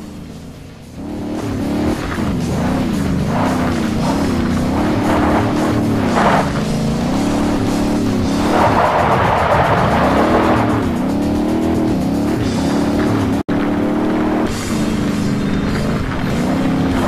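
Car engines roar and rev continuously in a racing video game, Crash Time 5, with loud, steady engine drone rising and falling as cars accelerate, plus occasional tire squeal, with no talking.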